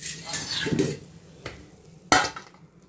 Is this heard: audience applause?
no